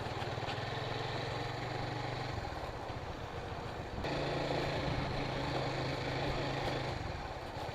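A motorcycle engine running steadily on the Guisan to Magallanes bridge, a continuous mid-level drone with a shift in pitch and loudness partway through, with no talk over it.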